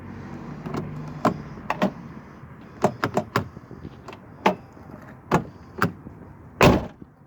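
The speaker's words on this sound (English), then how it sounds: "Let's try the new key lock." A door on a 1980s–1990s Chevy truck being tried with its new key lock gives a run of sharp metallic clicks and clunks, several close together, ending with a louder solid latch thud.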